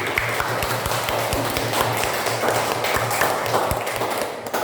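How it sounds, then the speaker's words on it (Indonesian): Classroom applause for a student named Rifki after he recites a hadith, a steady patter of many small hands clapping together at close range for several seconds, with a low hum underneath. "tepuk tangan untuk Rifki"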